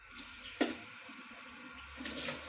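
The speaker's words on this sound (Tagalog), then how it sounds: "kailangan hugasan ko muna itong mga pinaglutuan ko" Cooking pots being washed under a running kitchen tap in a home in Germany, with a steady low water stream, a sharp clank near the start and a swell of splashing toward the end.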